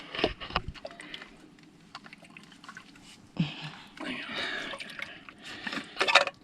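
Fresh water pours and splashes in bursts as salt water is rinsed off a crashed drone aboard a sailboat, with people talking in between.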